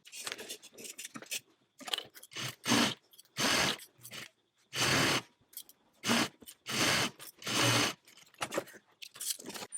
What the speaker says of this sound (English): now I'm going to head to my sewing machine, and I'm going to edge stitch on that folded edge